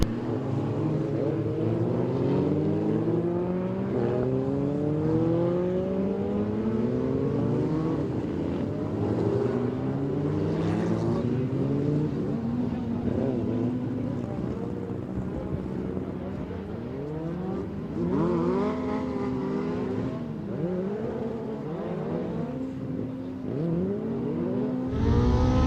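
Several Formula Vee race cars rev and drone steadily on a circuit at East London, with rising and falling engine pitches from multiple cars overlapping and moderately distant, while a commentator talks over them.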